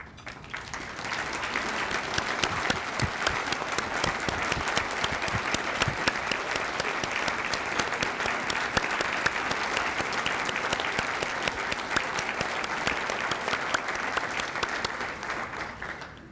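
A room of people at a community prayer breakfast applauds parents and teachers. The clapping is sustained and evenly dense, building quickly, holding steady for well over ten seconds, then dropping off at the end.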